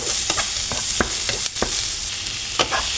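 Tomato and garlic being stirred as they fry in a pan, with a steady sizzle broken by several sharp scraping clicks of a utensil against the pan, close and fairly loud, no voices.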